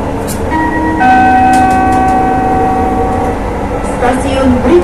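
A Jabodebek LRT light rail train on the Cibubur Line runs with a steady rumble, steady tonal motor whine and a chime, while an announcement voice speaks over it.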